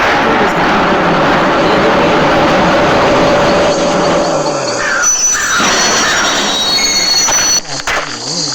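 A loud, continuous rumble of a train running on rails in a video game, with squealing wheels and metallic screeches rising near the end.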